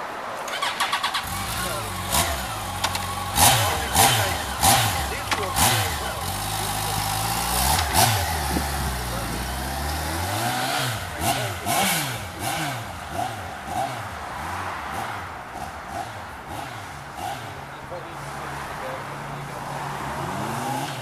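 A 2008 Yamaha FJR1300A motorcycle engine starts up and revs repeatedly, its pitch climbing and falling in strong surges, then settles into a steady throbbing run.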